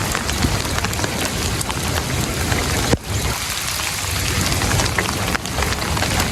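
Heavy rain pours steadily onto a flooding street, a dense, loud hiss of drops hitting the pavement that continues without pause, broken only by one brief dip near the middle.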